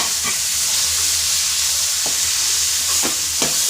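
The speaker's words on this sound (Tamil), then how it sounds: "இப்போ நம்ம தக்காளியை கொட்டிடலாம் இதில்" Tomatoes hit hot oil already frying with ginger and garlic, producing a loud, close, continuous sizzle and hiss, with a few scraping stir clicks near the end.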